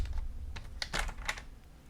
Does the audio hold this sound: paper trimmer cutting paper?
yes